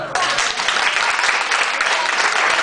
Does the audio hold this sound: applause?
yes